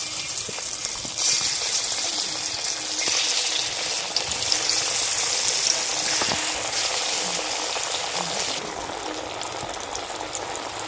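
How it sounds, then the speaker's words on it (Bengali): Dhoka lentil cakes dropped into hot mustard oil in a kadai give a steady, dense sizzle and bubbling hiss that swells as they go in and holds loud and close throughout. "তেল গরম হয়ে গেছে, এবার ধোকাগুলো ছেড়ে দেব।"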